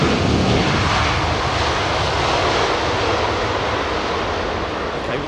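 A Thai Airways Boeing 777-300ER roars on Heathrow's runway 27R, a loud, steady, broadband jet-engine rumble that fills the whole stretch and fades slightly toward the end, with no voices.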